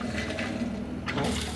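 Water rushes steadily from the valve of a simple rainwater collection pump at an off-grid cabin, a close, continuous gushing flow with a brief surge near the end.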